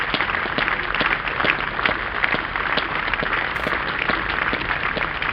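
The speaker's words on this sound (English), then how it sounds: "Wayne Madsen getting a good hand from this sporting Hove crowd" Sporting crowd at Hove cricket ground applauding a Derbyshire batsman during a County Championship match against Sussex, a steady broadband patter of clapping sustained for several seconds at even loudness with no voices on top.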